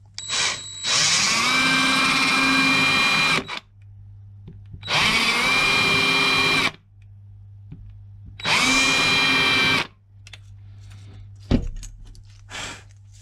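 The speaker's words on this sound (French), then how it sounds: "On prend une perceuse avec un forêt prévu à cette taille qu'on aura vérifié avant." A power drill bores a hole in three loud, close bursts of about three seconds each, separated by short pauses, then makes a brief clatter at the end. No voices are heard.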